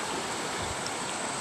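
A flooded river runs high after recent floods, a continuous broadband rush of flowing water, steady and fairly close, with no voices.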